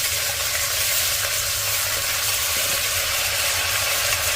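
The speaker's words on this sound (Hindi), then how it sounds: "अब इसमें डालेंगे कटी हुई पालक, धुली और कटी हुई पालक डाल देंगे।" Chopped spinach fries in a pan with ginger garlic paste, giving a dense, steady hiss of sizzling that stays loud and even throughout, with no talking.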